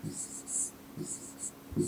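Pen strokes scratch on paper in short bursts during a grammar lesson, faint and near, with low murmured speech mixed in between the strokes.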